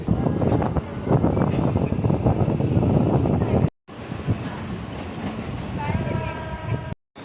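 A crowded local commuter train pulls out of Kharghar station in Navi Mumbai, a steady loud rumble of wheels and carriages close by with wind buffeting the microphone, broken by a brief gap, then a fainter rolling rumble with a rising electric whine.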